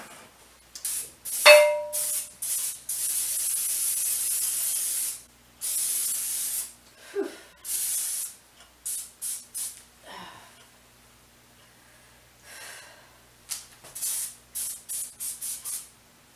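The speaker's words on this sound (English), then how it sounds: "the only spray that I can really handle to breathe is the olive oil spray." Repeated hissing bursts of an olive oil cooking spray can, several short and long sprays with pauses between, close and loud, no talking.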